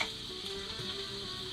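Steady, soft sizzling of potatoes frying in a pan, a continuous crackly hiss at low volume with no talking.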